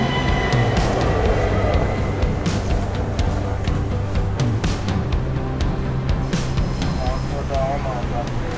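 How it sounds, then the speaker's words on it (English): An airport train in Vienna rumbles along with a steady low drone and rattling, while people talk over it. "This is the nicest airport train I think I've ever seen."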